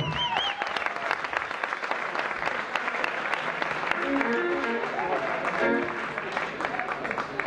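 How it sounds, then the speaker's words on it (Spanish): Audience applause at a live concert, dense sustained clapping filling the whole stretch, with a voice briefly audible over it. "Por favor, un gran aplauso."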